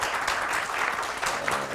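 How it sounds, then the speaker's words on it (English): Audience applause at a panel event on radio broadcasting, dense steady clapping filling the whole moment at close range with no voices over it. "Big round of applause."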